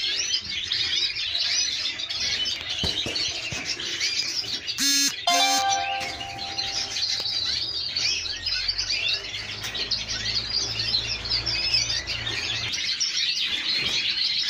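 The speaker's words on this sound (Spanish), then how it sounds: "Más pájaros. Ahí los veis." Many birds chirp and tweet continuously inside an aviary, a dense, steady chorus of high calls with a brief louder tonal burst near the middle and no voices.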